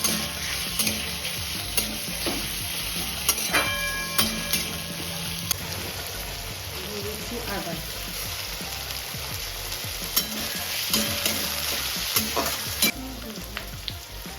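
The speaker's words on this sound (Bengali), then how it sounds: "লঙ্কা দিয়ে দিলাম ভালো করে ভেজে নেব" Chopped onion and chili fry in oil with a steady, dense sizzle, punctuated by occasional sharp crackles and scrapes of stirring, close and continuous throughout with no talking.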